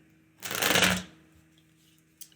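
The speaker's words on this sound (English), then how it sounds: "I am going to pull your relationship card" Tarot cards being shuffled by hand during a reading, heard as one soft riffling burst of about half a second, fairly close, followed by quiet room tone and a faint tap near the end.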